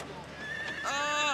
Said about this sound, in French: Un cheval qui nous suit.